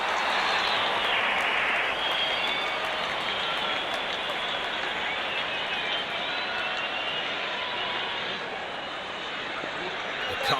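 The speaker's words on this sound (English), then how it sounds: "The crowd is enjoying every bit of this action." Spectators in a cricket stadium during an India vs Pakistan T10 match applaud and cheer in a dense, steady roar that holds loud for the whole stretch, with no clear pauses.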